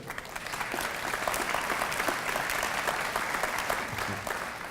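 Audience applause at a Raleigh Union Station dedication ceremony, steady dense clapping from a large crowd sustained evenly throughout, moderately loud and close, with no talking over it.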